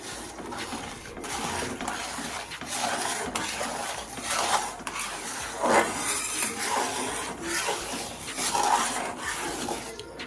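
Milk powder being stirred into hot milk in a metal pan for a gujiya filling, giving a continuous scraping and clinking of a spoon against the pan, soft and close with no talk.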